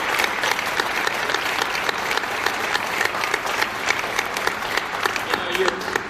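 A crowd at a Canadian roofing company event, with around 350 workers present, breaks into sustained applause, a dense, even wash of clapping with a voice briefly audible near the end.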